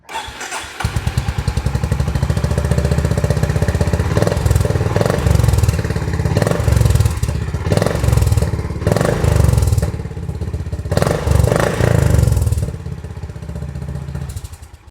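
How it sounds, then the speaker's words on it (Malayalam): A 2025 Honda CB350 motorcycle engine starts with a quick crank, then settles into a loud, close, thumping exhaust note at idle, with repeated blips of the throttle rising and falling throughout. "അപ്പോൾ നമുക്ക് ഈ വാഹനത്തിനൊന്ന് സ്റ്റാർട്ട് ചെയ്തിട്ട് എക്സോസ് നോട്ട് എങ്ങനെയുണ്ടെന്ന് നോക്കിയിട്ട് വരാം."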